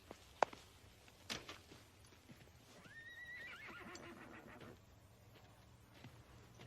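A green horse gives a clear whinny in a quiet outdoor setting, one high neigh rising and trailing off, with a few faint hoof clops and thuds around it.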